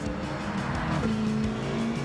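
A 1970 Dodge Charger Super Bee muscle car in Gran Turismo 7 holds a loud, steady engine drone with a rising pitch shift midway, likely while accelerating through the track, with no talk over it.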